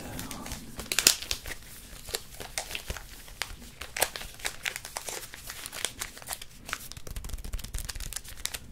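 Foil Pokémon card booster packs being opened up close, with a steady stream of crinkling and crisp tearing bursts, one sharp rip near the start, set in a quiet room with no talking.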